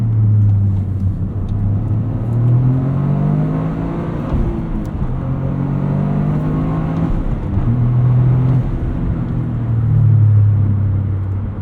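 A steady 2023 Toyota GR Corolla Morizo Edition engine drones while driving, with rising and falling pitch as it revs through gears, loud and close throughout.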